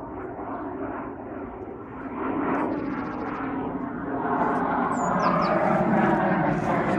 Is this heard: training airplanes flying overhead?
yes